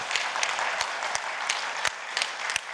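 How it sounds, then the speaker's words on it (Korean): An audience at a Korean forum debate applauds to welcome the chairman of a venture business association, a steady, fairly distant patter of many hands clapping with a few sharper claps standing out. "박수로 맞아주십시오."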